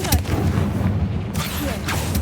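Confringo blasting spell cast in the Hogwarts Legacy video game, a series of booming fiery bursts layered over a rumbling, crackling low-end bed, with a sharp blast near the start and another toward the end.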